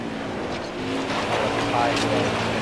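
A NASCAR race car in Nascar Heat 4 runs at heavy throttle with a continuous engine roar that climbs slightly, and a voice talks over it.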